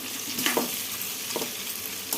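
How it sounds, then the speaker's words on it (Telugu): Sliced bitter gourd frying in a pan, a constant close sizzle broken by a few scraping stirs of a spoon through the pieces. "కొంచెం వేగిన తర్వాత బాగా కలుపుకోవాలండి"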